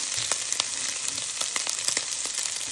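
Chicken barbecue and chopped onion sizzling in a hot pan for fried rice, a steady close frying hiss dotted with sharp crackles and pops throughout, with no one talking.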